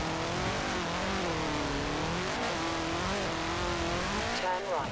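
A stock turbocharged car in Forza Horizon 4, loud engine note rising and falling in wavering pitch sweeps as it revs and shifts, with tire squeal and a voice talking over it.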